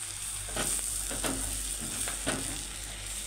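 Chili peppers frying in a hot pan, a steady close sizzle with short bursts of crackle as they are stirred, no talking.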